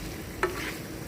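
Fish frying in a pan gives a steady sizzle and hiss, with a single brief clink or scrape partway through.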